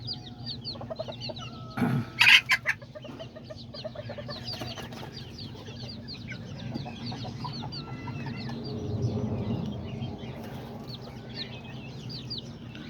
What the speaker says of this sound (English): Those two right there. The little roosters.